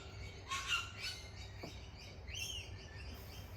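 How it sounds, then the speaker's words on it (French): Birds sing and chirp outdoors on a cool day, several short calls and squawky phrases at moderate distance over a steady low background hum, no talking. "Et que les oiseaux chantent"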